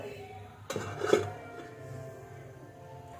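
A lid set down on a cooking pot, one clattering metal knock followed by a brief scrape, then quiet kitchen background.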